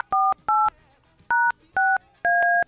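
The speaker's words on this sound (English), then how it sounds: "Let me get Kyle on the line, please." Telephone keypad tones as a number is dialed: five distinct two-tone beeps in an uneven rhythm, clear and close with nothing else over them.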